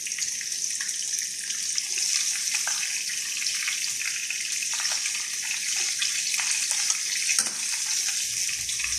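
Pieces of fish roe fry in oil with a loud, dense, continuous sizzle and a few brief crackling pops.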